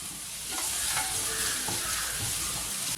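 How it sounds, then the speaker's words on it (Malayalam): Masala with turmeric powder sautéing in a pan: a steady, close sizzle with continuous frying crackle and occasional scraping strokes of the spatula, no voices. "നന്നായിട്ട് വഴറ്റി ആ മഞ്ഞളിൻ്റെ ചുവ അങ്ങ് മാറണം."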